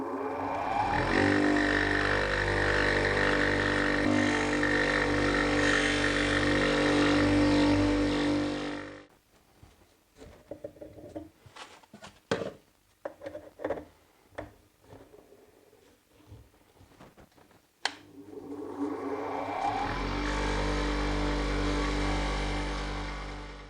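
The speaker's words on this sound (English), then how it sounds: "I'm now going to switch over to like a buffing wheel, just to do a little bit more" Buffing wheel polishing a cast resin block set with coffee beans, a loud steady motor whine and grinding hum that stops, leaving sparse clicks and taps before the wheel spins up again.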